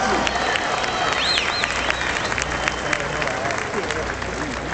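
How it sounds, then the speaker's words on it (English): Crowd applause and cheering for the mayor at an outdoor anti-domestic-violence rally in Dallas, steady dense clapping with a few whistles throughout, loud and continuous. "So give a round of applause for your mayor"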